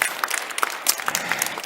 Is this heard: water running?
no